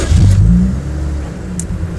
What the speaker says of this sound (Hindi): तो जी अभी मैं आपको ज़रा इस गाड़ी का स्टार्ट सुनाता हूँ।